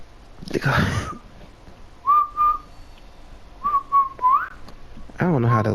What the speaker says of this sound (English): I don't know how to whistle.